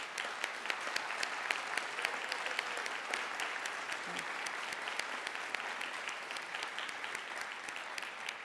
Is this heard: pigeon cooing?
no